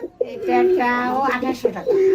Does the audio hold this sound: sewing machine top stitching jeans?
no